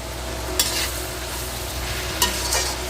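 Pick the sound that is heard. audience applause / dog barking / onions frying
onions frying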